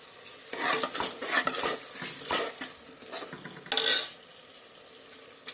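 Egg biryani frying in a pan, with repeated scraping stirs and clinks of a spatula against metal over a steady sizzle, close and fairly loud, no talk.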